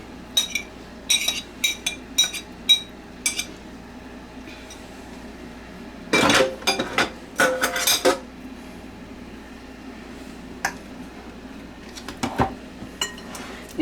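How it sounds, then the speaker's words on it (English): Spoon scraping and clinking in a baking dish while Ritz cracker, chicken and cheese casserole ingredients are mixed together, in irregular bursts of clatter with quiet gaps, close and without talk. "You mix this all really well together."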